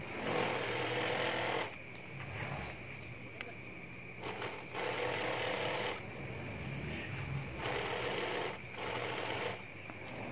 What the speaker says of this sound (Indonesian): Untuk di bagian tengah itu dijahit rapat.